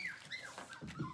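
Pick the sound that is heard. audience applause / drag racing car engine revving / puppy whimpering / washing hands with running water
puppy whimpering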